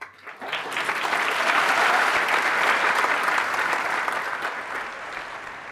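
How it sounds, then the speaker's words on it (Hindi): Audience applause fills a talk hall, a dense steady clapping that swells quickly, holds loud for several seconds and tapers slightly at the end. "अब जब मैंने ये बोला, आपने तालियां बजाई"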